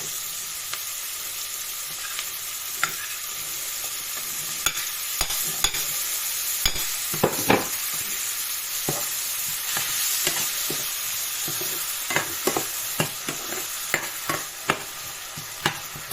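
Fresh tomatoes sauté in a hot pan with a steady close sizzle, broken by irregular scraping clicks of a spatula stirring throughout.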